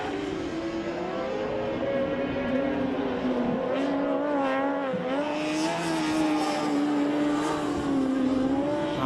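Racing sidecar engines scream at high revs during the 2012 FIM Sidecar World Championship at Oschersleben, sustained and loud, with pitch rising and falling as machines pass close by and battle on track.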